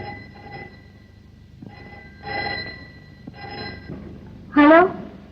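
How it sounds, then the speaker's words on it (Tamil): A telephone rings indoors in repeated spaced trills of bright bell tones, moderately close, ending in a louder, sharper ring. "பாம்பேல இருந்து ஃபோன் கால்."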